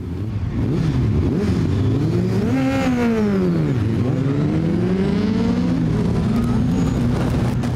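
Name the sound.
drag racing car runs on a drag strip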